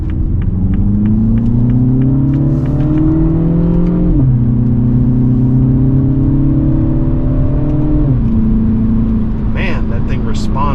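A 2024 Mini Cooper S in sport mode, shifted manually with steering-wheel paddles, pulls hard from inside the cabin, engine note climbing steadily, dropping at each of two upshifts and climbing again, loud and continuous.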